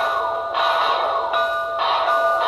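The electronic bell on an Intermountain AC-12 Cab Forward model steam locomotive rings in a steady repeating clang, each strike bright and metallic, heard up close and alone.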